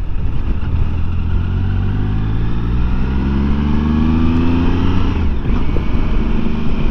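A three-cylinder motorbike carrying two people accelerates, its raspy engine note rising steadily in pitch, then dropping at a gear change after about five seconds, loud and close over steady wind noise.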